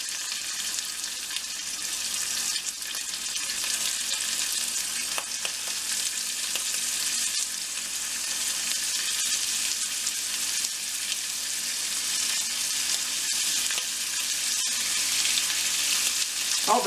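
Thin-cut pieces of deer heart sear with onions in a hot pan, a steady, dense sizzle with a few faint stirring clicks, continuous and close throughout.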